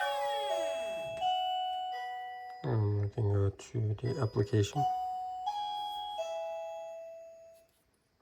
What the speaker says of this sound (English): Let me ring the doorbell and see what's gonna happen.